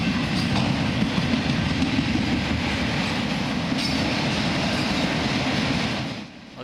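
A Norfolk Southern manifest freight train rumbles past close by, wheels clacking in a steady rhythm, then the noise drops away sharply at the end.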